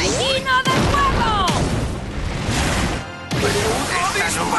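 A loud burst of whooshing, booming effects from a fire whirlwind special shot in Inazuma Eleven Strikers erupts under an excited commentator's shouting, with swirling sweeps and a sharp break near the end.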